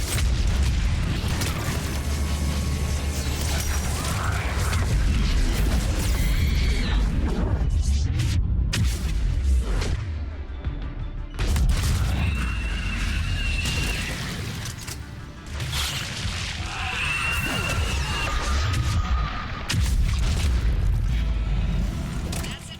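Missile explosions in the video game Mass Effect 3 land as repeated heavy booms and deep rumbling blasts, loud and close, with short gaps between bursts and mechanical clatter throughout.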